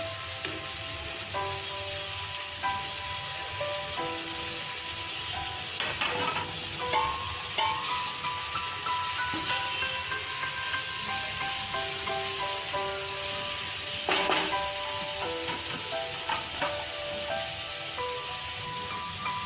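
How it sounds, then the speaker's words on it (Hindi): Vegetables sautéing with onion in a pan for chicken pizza rice give a steady, close sizzle with scattered stirring clinks and scrapes throughout, no talking over it. "हमारे वेजिटेबल्स अच्छे से फ्राई हो गए हैं"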